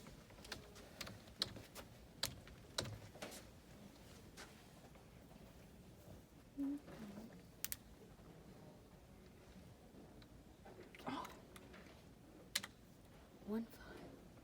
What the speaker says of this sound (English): type in the ISBN number